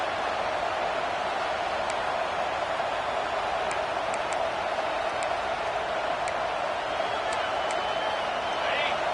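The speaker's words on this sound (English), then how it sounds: "this crowd is fired up. Listen to this noise here." A dense, steady roar from a large stadium crowd at a football game, constant and loud throughout, with occasional faint whistles rising above the din.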